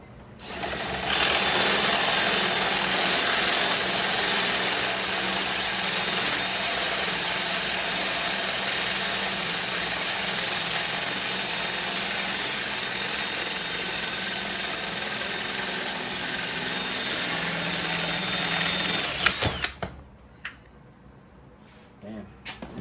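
A power drill with a dull bit whines steadily and loudly for about twenty seconds, its pitch wavering as it strains, then cuts off abruptly into near silence.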